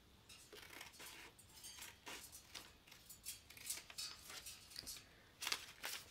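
Scissors snip and slice through paper in a series of crisp sounds, close and fairly quiet, repeating irregularly over several seconds with no talking.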